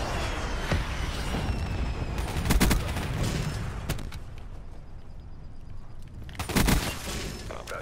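A Lightning Strike airstrike in Call of Duty Black Ops III, with sharp crackling blasts and booming impacts in two bursts, under a steady background rumble of gunfire.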